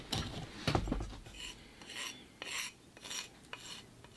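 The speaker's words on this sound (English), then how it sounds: "It'll take a little bit of filing, but not a whole lot." Hand filing on a small cast piece of a miniature temple model being fitted, several short rasping strokes in uneven bursts, close and fairly quiet with no talking.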